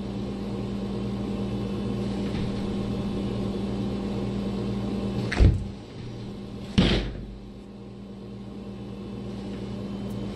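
A door bumps twice a second or so apart, the second knock longer and fading, over a steady low indoor hum; no voices.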